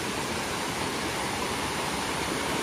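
Waterfall in Ariège roaring steadily, a dense broadband rush of falling water that stays even and close throughout with no voices.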